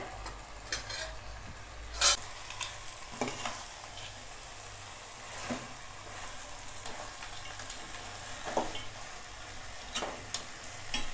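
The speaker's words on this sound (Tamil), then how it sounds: "ஒரு 5 நிமிஷமாக இந்த மாதிரி வதக்கிக்கிட்டே இருக்கேன்" Small whole crabs sautéing in a pan for a crab curry give a steady, soft sizzle with occasional scraping stirs and light clinks, no voices.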